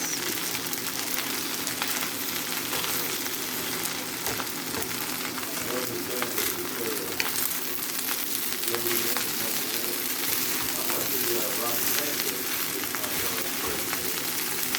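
Fried rice stirred and tossed in a hot pan, with a steady, close sizzle and frying hiss running throughout and faint scraping of the mix.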